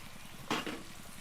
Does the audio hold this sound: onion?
yes